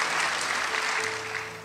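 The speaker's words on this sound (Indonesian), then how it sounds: "tepuk tangan buat Tuhan" A church congregation claps steadily during a sermon, a dense wash of applause filling the space at constant loudness.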